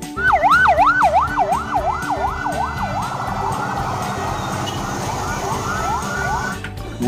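A toy ambulance siren wails in fast, even up-and-down sweeps, loud and close, then settles into a thinner repeating tone that carries on until it cuts off near the end.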